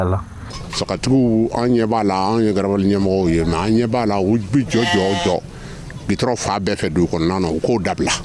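Sheep bleat repeatedly at a crowded livestock market during the Tabaski festival, their wavering cries mixed with and partly masked by steady human talk throughout.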